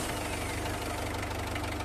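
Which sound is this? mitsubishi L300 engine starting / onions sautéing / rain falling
mitsubishi L300 engine starting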